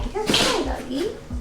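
A mini dachshund gives a sharp, sudden sneeze, a short hissing burst close to the microphone, while someone speaks gently over it.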